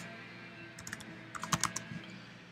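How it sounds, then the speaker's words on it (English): Fingers type a Java command on a computer keyboard. The keystrokes come in two short, irregular bursts of close, crisp clicks, louder in the middle, over a low steady hum with no speech. "I'm going to type in our Java command"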